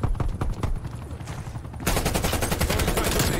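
Gunfire in Call of Duty Warzone crackles in rapid bursts, automatic fire rattling close and loud, intensifying into a dense continuous volley midway.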